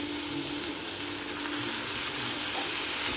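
Tomato and ginger pieces fry in a pan for a paneer gravy curry, giving a steady, close, continuous sizzle with faint stirring and no voices.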